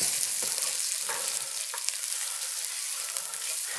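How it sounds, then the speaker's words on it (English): Risotto rice kernels toasting in a pan for pumpkin sage risotto, a soft steady hiss with a few faint ticks and pops, close and fairly quiet, no speech. "You may find a couple kernels fly out of the pan, kind of like popcorn."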